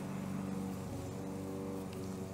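A lawn mower engine drones steadily nearby outdoors, a continuous low motor hum with a faint pulsing quality, moderately quiet and unbroken throughout.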